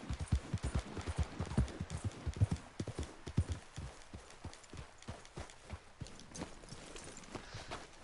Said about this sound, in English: You can actually just ride your horse down here.